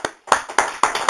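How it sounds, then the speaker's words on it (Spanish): A church congregation claps in a steady, quick rhythm, with evenly spaced loud claps and no voices. "Denle un aplauso."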